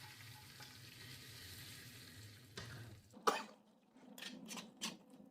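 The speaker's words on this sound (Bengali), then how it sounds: "রসুনগুলো লাল করার পরে আমি ডালের মধ্যে ডাইলা দিব" Fried reddened garlic goes into a pot of mung dal with sweet potato: a soft steady sizzle, then a sharp hissing burst as it hits, followed by quieter bubbling and a brief cough.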